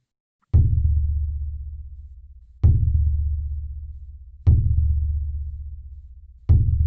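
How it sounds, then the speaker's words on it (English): Shamanic drum struck four times at a slow, steady pace, each deep booming hit ringing out and decaying before the next, close and alone without speech. "And I'll use my drum to bring us into the rhythm."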